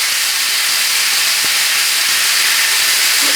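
A grill pan heating on a stovetop gives off a loud, steady, broadband hiss that stays even throughout, with a single faint tick partway through.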